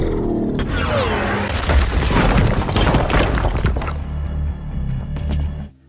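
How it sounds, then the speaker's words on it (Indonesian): A motorcycle blasts into a prison entrance in a film scene: a loud booming explosion with shattering, crashing debris that rumbles on for several seconds before cutting off abruptly. "Pria misterius itu lalu menerobos penjara dengan meledakkan motornya ke pintu masuk penjara."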